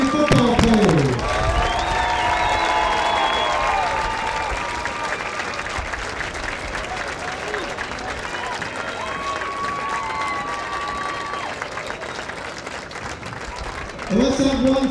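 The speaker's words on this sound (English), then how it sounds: "a nice round of applause for our senior football players" A stadium crowd at a high school football game between Upper St. Clair and Baldwin applauds the senior football players, with loud, sustained clapping and cheering over the full stretch and voices mixed in.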